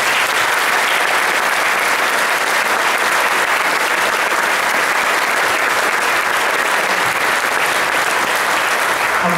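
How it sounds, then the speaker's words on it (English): Audience applause at a high school spring band concert, a loud, sustained wash of many hands clapping with no break. "Applaud for these kids, they're great."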